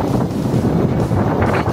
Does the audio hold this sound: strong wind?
yes